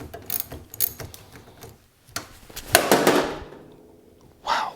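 A power tool spins off 7/16 bolts on a Bronco steering column during dash disassembly, with short whirring bursts and rattling clicks of the bolts and metal parts, close up and without speech.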